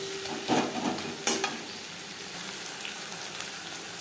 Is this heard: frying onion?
yes